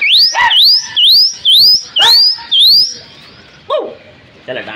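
Pigeons calling and whistling in a rooftop flock release, a series of about six rising, swooping whistle-like notes in a steady rhythm, followed by a softer flutter and a brief burst of noise near the end.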